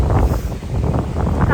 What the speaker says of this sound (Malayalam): നല്ല കാറ്റ്, നല്ല തണുപ്പുണ്ട്.